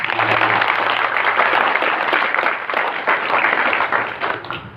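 Crowd applause from a gathering of Brimob police personnel in Yogyakarta, a dense sustained clapping for nearly five seconds, fairly loud and even, with little speech over it.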